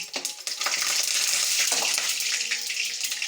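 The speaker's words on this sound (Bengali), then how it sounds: "তেজপাতাটা দিয়ে দেব, ফাটছে দেখো না" Cardamom, clove, cinnamon and bay leaf crackle and sizzle in hot oil, a dense, steady frying hiss with scattered sharp pops, close and fairly loud, with no talking.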